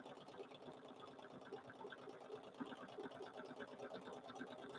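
A sewing machine runs steadily while stitching a small meander quilting pattern on fabric for a mug rug, a fast even needle chatter heard close but faint.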